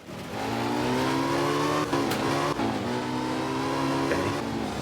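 A Porsche engine accelerates hard on a race track, a loud, steady revving drone that climbs in pitch, briefly dips as the throttle lifts around two seconds in, then pulls again, close and continuous with no talking.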